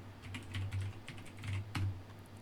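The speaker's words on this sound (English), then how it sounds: "You just have the loudest keyboard in the history of ever." A loud computer keyboard clatters with rapid, uneven bursts of keystrokes close to the microphone, with short pauses between flurries.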